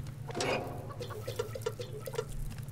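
Water cooking in the Subsistence survival video game makes soft, quiet bubbling and dripping pops in an irregular patter over a low steady hum, with no speech.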